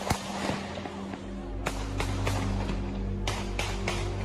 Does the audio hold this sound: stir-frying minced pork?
no